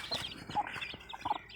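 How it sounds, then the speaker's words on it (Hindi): Aseel hens raising chicks give soft, close clucks in a quick irregular series, with faint chirps mixed in. "ये दोनों मुर्गियां बच्चे पाल रही हैं जी"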